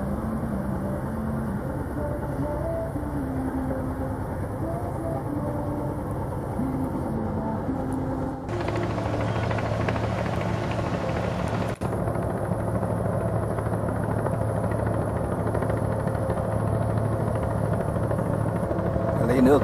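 A sand barge's engine drones steadily while it takes on river water on the Cổ Chiên river, a loud continuous motor hum with a brief shift in tone midway and no talking.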